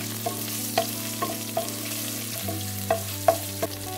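Cumin, garlic and ginger paste frying in oil, a steady sizzle with a low hum, punctuated by repeated sharp spatula taps and scrapes roughly every half second, close and clear, no voices.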